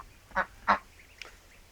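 Farm ducks in a village orchard giving two sharp, loud quacks close by, followed by a fainter third call, with no talking.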